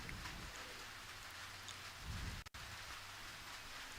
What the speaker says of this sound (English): pouring down rain right now